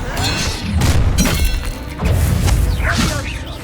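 Disarming Expelliarmus spell effects in the Hogwarts Legacy video game crack and burst with two loud, crashing impacts and shattering whooshes, close and forceful.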